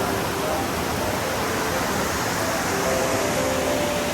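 Water rushes in a strong, steady current near a cave in Rodriguez, Rizal, a loud unbroken roar that fills the whole clip with no pauses.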